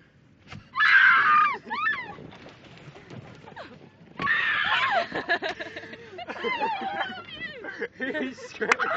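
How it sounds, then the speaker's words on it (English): A man on a boat trip screams in two long, loud bursts, the first near the start and a second, more ragged one midway, with other people's voices and shrieks around them. "He's screaming."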